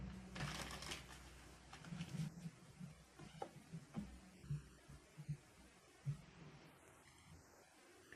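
Tarot cards being shuffled close by in soft, irregular riffles and taps, with no talking.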